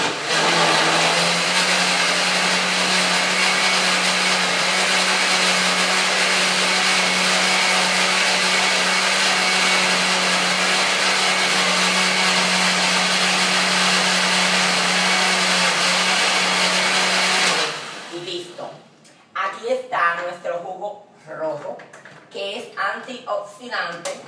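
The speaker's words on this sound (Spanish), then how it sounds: "vamos a proceder a licuar un poco más y ya nuestro jugo está casi listo para tomar" A blender whirs steadily through red antioxidant juice, a loud, close, even motor drone that runs for about eighteen seconds and then cuts off abruptly, after which someone speaks.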